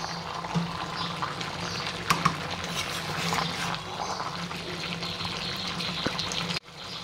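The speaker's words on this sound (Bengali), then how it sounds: "এবার আমি পরিমাণ মতো জল দিয়ে দিলাম।" Water pours into a pan of jackfruit and shrimp curry, a continuous close splashing and bubbling wash that runs for several seconds before cutting off abruptly near the end; nobody talks.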